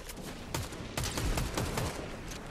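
Fortnite gunfire: a rapid string of sharp, loud shots in uneven bursts, some closely spaced like automatic fire, with brief pauses between volleys.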